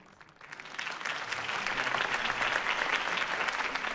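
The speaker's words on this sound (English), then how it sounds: "Mr. Wayne, my campaign's largest backer, could have heard that applause" Applause from a crowd in a video game swells up after a brief quiet start and then continues as steady, moderately loud clapping.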